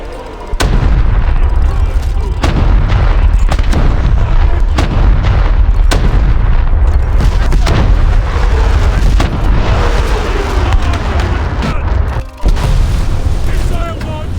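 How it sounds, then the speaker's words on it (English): Missile strikes and explosions in a naval combat video game boom repeatedly and loudly, a dense barrage of sharp blasts and rumbling impacts spread across the whole stretch. "Missile launched in our direction! Target being tracked! Direct hit!"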